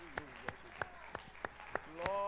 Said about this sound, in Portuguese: Aplausos para o Senhor Jesus, porque Ele é merecedor de toda honra e toda glória.